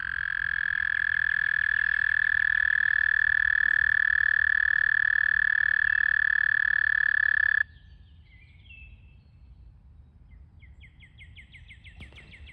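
Frogs croak in a loud, steady chorus of first-of-the-season calling for about seven seconds, then it cuts off, leaving quiet outdoor background with a few faint chirping calls.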